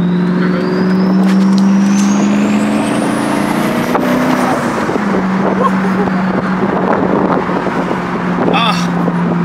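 A twin-turbo LS V8 in a C5 Corvette roars and drones loudly nearby, its pitch rising and shifting under wind noise, with rumbling exhaust throughout.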